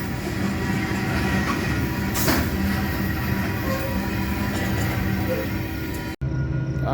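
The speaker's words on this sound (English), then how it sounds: "here comes an eastbound coming in to do a crew change." Eastbound freight train rolling into Fremont, Nebraska for a crew change, a loud continuous rumble of wheels and cars passing close by with clattering rail noise, ending in an abrupt cut.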